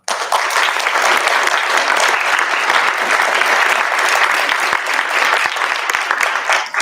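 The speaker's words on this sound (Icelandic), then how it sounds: "ég legg til að við gefum þeim gott klapp" Steady audience applause fills the room at the close of a panel discussion on housing policy ahead of municipal elections, loud and continuous for about seven seconds with no talk over it.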